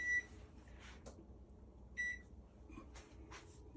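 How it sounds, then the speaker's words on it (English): A kitchen timer beeps twice in short electronic bursts about two seconds apart, set against quiet room tone during cucumber soup preparation. "and that's my timer."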